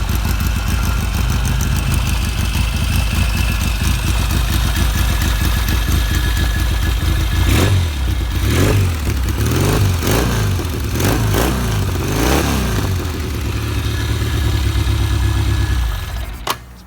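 A 1975 Norton Commando 850 motorcycle idles with a steady thumping beat, then its engine is blipped in several sharp revs before settling back to idle, close and loud with no talking.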